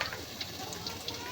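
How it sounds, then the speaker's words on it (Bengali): Cumin seeds frying in hot oil in a pan for Bengali khichuri, with garlic and cardamom nearby, giving a steady close sizzle with faint crackles throughout. "জিরাটা ভালো করে ভাজা হয়ে গেলে তারপর অন্যান্য জিনিস দিয়ে দেবো"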